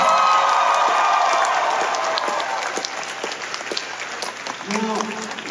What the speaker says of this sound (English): Everybody give a round of applause for the lovely David Howard.